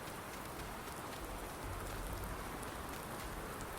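Steady rain falls in Farming Simulator 19, a dense, even hiss of drops on a surface that holds at a constant level for the whole stretch, with no voices over it.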